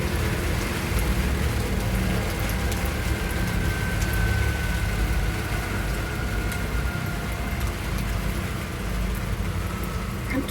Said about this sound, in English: And today's rain has been calm.